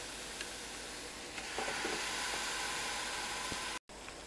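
Portobello mushroom burgers sizzle on a George Foreman grill with a steady, close, broadband frying hiss and a few faint clicks, then a brief dropout near the end.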